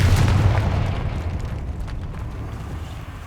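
In the video game Hogwarts Legacy, a Confringo explosion spell goes off as one loud, deep fiery boom that rumbles and slowly fades, with no voices over it.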